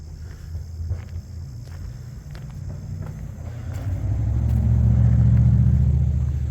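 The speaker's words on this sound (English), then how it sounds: "I could just hear a vehicle going through the covered bridge." Out on a nature preserve trail, a distant vehicle rumbles across a covered bridge, the low drone swelling louder over the last few seconds, with scattered footsteps and rustling close by.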